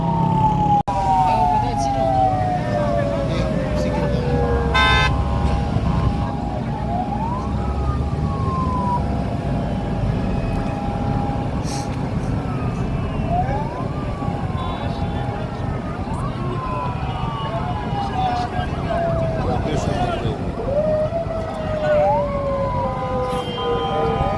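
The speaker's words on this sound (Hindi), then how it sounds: "CMKP सुहेल अफरीदी साहब की जो गाड़ी है वो यहाँ पे इस टाइम जा रही है" Sirens wail and sweep continuously as a chief minister's convoy car passes through a crowded street, loud and close, with horns and engine noise under the rising and falling tones.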